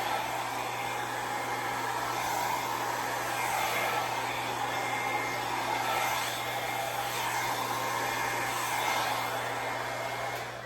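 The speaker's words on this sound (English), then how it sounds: "See how I'm curving the hair dryer?" A hair dryer blows steadily and close by over an acrylic paint pour, a constant whooshing roar with a faint high whine, swelling slightly at moments.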